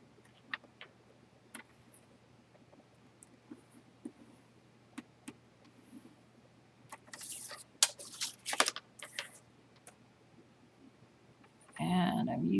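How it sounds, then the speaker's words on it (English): Paper trimmed with a Stampin' Up cutter and score tool, faint scattered ticks and small scraping strokes building to a brief rapid cutting flurry, then a louder rustle at the end. "And then I'm going to cut around the edges."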